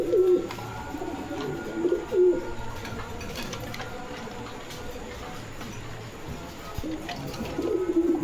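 A pair of German Beauty pigeons coo in short bursts near the start, around two seconds and again at the end, low and close over a quiet background with faint talk.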